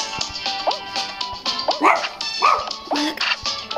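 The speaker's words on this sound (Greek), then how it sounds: "Γαβγίζεις το γατάκι." A small dog barks and yips in quick, uneven bursts at a kitten, with whimpering squeals between the barks, loud and close in a home setting.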